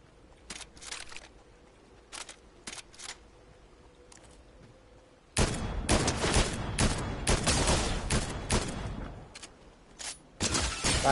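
Fortnite gunfire starts as scattered single shots and short sharp cracks, then turns into a dense, loud run of rapid shooting that continues almost without a break before a brief lull and another burst.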